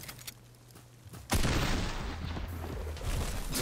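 Gunfire in the video game Fortnite breaks out as a sudden loud burst of rapid shots after a quieter moment, then continues in dense, close volleys.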